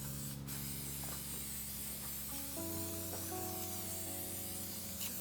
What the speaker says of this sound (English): I'm just gonna actually spray the muffin tin.